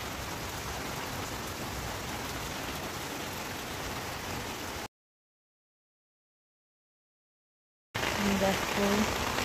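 Steady rain falling on garden plants and flowers outdoors, a dense even hiss for several seconds, then a silent gap before the rain resumes slightly louder.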